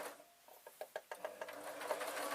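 A sewing machine runs in short bursts, then settles into steady stitching with a rapid mechanical patter, close and fairly quiet, while shirring fabric for a pillowcase dress.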